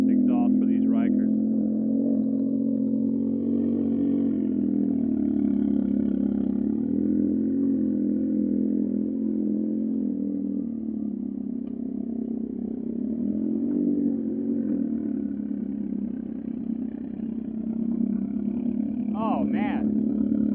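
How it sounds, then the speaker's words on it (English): A Can-Am Ryker three-wheeler with an aftermarket Carbon Series exhaust idles with a loud, steady low rumble close by, holding a constant throb for the whole stretch, with a brief rev near the end. "Nothing quiet about aftermarket, third party, or really any other than stock exhaust for these Rikers."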